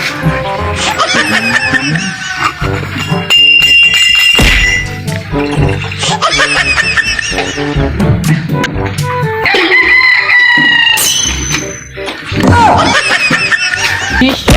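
Roosters crowing repeatedly in a rural yard kept for cockfighting, loud nearby crows with clucking between them, mixed with people talking and laughing.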